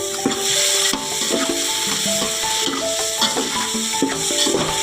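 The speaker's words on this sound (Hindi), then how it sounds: "अब इनको अच्छी तरीके से हम भून लेते हैं" Sindhi biryani masala spices roast in a pan for matar pulao, scraped and stirred with a spatula in repeated rhythmic strokes over a soft sizzle, close and fairly loud, no voices.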